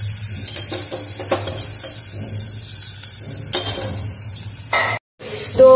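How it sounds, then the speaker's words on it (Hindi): Pounded garlic and fenugreek seeds fry in oil for a nari saag with potatoes, a moderate crackling sizzle with scattered utensil clinks against the pan and a brief drop in sound near the end. "तो लहसुन फ्राई हो रहा है"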